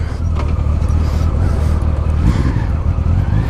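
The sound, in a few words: Honda Valkyrie six-cylinder motorcycle engine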